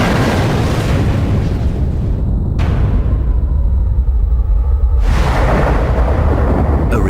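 A bomb explosion erupts as a loud, sustained rumbling roar with deep low-end boom and crackling debris, surging again midway, continuous and close throughout.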